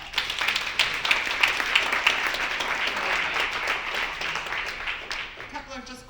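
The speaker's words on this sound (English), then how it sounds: "So give yourselves a round of applause." Audience at a conference on homelessness solutions breaking into applause, a dense wash of many hands clapping that builds quickly and then slowly thins out, with a voice heard over it.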